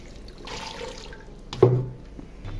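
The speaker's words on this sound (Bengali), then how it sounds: "ডিমে পানি দিয়ে দিই সিদ্ধ করার জন্য" Water poured over eggs in a pot for boiling, a short splash and gush of liquid after soft background handling, alone without speech.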